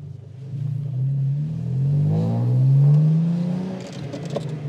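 A carbon fiber widebody BMW G82 M4 accelerates from inside the cabin, its engine note climbing steadily through the gears with a deep rising drone and a slight dip near the end.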